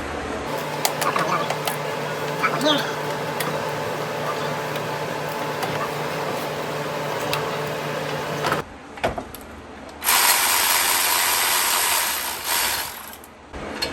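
A ratchet wrench loosens 15mm brake bolts on a 2010 Ford Fusion, giving steady rapid clicking up close for several seconds before the tool stops and a brief whirring hiss follows.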